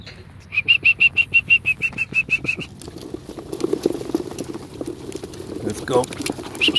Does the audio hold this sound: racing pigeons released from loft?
yes